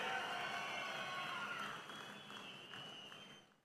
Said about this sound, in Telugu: అవును అంటే గట్టిగా చప్పట్లు కొట్టి అభినందించండి ప్రధానమంత్రి గారిని